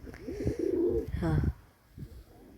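Pigeons coo outdoors in a couple of short, low, throaty calls, fairly close, over faint background noise.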